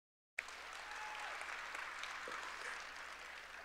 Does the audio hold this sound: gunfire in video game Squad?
no